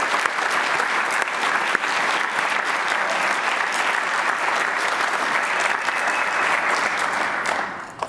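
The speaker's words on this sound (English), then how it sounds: "give a round of applause to the organizers of this symposium" An audience at a conservation symposium claps steadily for the organizers, a dense, even round of applause that holds loud for several seconds before tapering at the end.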